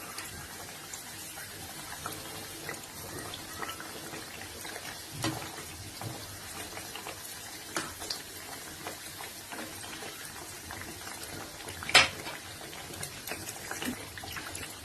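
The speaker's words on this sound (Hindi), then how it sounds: "हम इसे मीडियम फ्लेम पर ऐसे ही हल्की पिंक होने तक फ्राई कर लेंगे।" Banana puri, a Kokani sweet, frying in oil in a pan on a medium flame, giving a steady, even sizzle and bubbling throughout, with a few brief louder pops.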